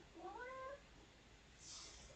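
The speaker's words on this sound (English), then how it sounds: "meowing for attention again" A pet cat meows for attention, two or three quick rising meows close by in a quiet room, followed by faint background hiss.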